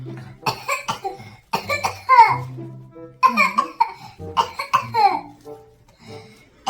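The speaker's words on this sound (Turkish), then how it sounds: "Öksür kızım." A young girl with a sore throat coughs in several short, raspy bursts, with breathy, whimpery sounds between them.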